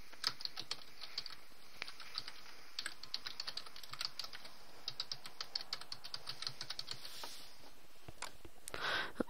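Rapid, irregular keystrokes on a computer keyboard as a password is typed, a close, fairly quiet patter of clicks running throughout with brief pauses.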